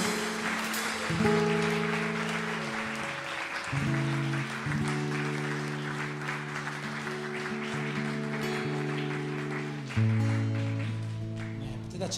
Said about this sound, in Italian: Facciamo un applauso al Signore.